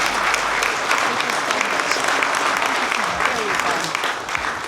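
Sustained applause from an audience at a Women of the Year awards ceremony, loud and full-bodied, with many hands clapping continuously and a voice faintly audible beneath before the clapping eases near the end.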